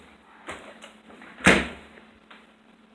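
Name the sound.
door opening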